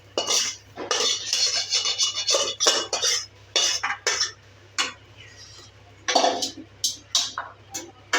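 A spoon stirring dry potato curry in a metal pan, close and clear, with repeated scraping and clinking strokes in irregular bursts separated by short pauses, no talking.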